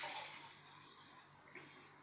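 Coconut water poured out of a freshly opened coconut, a brief, faint liquid splash and trickle that fades out over about two seconds.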